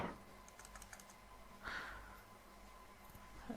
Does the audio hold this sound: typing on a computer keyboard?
yes